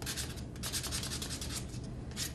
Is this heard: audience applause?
no